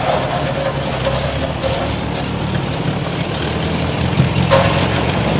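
A 1959 row crop tractor running in a harvest festival tractor parade, with a steady close engine rumble over outdoor noise and a faint voice briefly audible.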